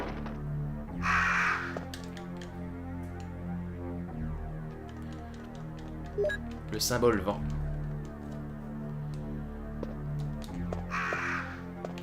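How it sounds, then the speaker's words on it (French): Crows cawing in the video game Resident Evil Director's Cut, two distinct bursts of harsh caws about ten seconds apart over tense, droning game music, with a brief clatter between them and someone speaking briefly. "quand les corbeaux sont déchaînés."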